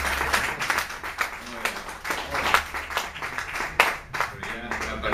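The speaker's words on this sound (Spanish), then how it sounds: "si quieren aplaudir, adelante." An audience at a round-table discussion on Spain's Canary Islands claps in scattered, uneven bursts, individual hand claps standing out sharply against a quieter room, with voices murmuring underneath.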